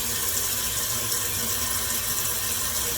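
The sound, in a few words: toilet tank refilling with water after Fluidmaster repair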